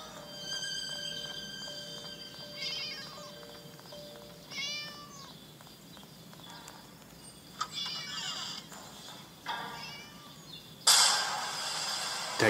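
A cat meows several times in a row, clear high-pitched calls spread across a quiet indoor background, with a brief louder noise near the end.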